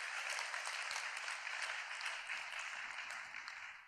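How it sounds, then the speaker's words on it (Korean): Congregation at an evening prayer vigil gives a round of applause, a steady, dense wash of clapping that holds evenly throughout and tapers slightly at the end. "여러분 축복의 박수를 한번 드립시다"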